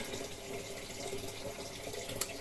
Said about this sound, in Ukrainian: вже набирає воду